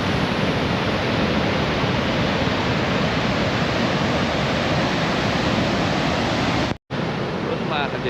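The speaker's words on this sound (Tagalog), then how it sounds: "Oh, you don't like the noise of the fall?" Siffleur Falls, a waterfall reached on a hike, roars as a loud, unbroken wash of noise close by, with a momentary dropout near the end.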